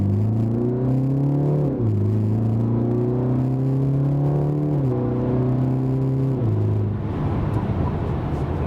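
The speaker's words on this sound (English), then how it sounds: "Man, just those burbles. Man, the car sounds good." Exhaust note of a BMW G20 330i fitted with a VRSF downpipe, a steady loud engine drone that dips and shifts pitch as revs fall, ending in rougher crackling burbles.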